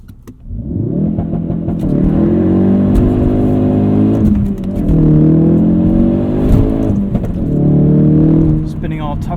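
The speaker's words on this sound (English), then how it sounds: "Let's do a quick launch control start." Modified Ford Performance Focus RS making a launch control start, the engine held high then revving hard through repeated climbing pulls as the tires spin, loud and close inside the cabin.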